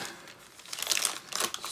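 Plastic bag holding a 1/48 Iliad Design Cessna L-19/O-1 Bird Dog decal sheet being opened, a brief close crinkle with a couple of sharper rustling bursts toward the end.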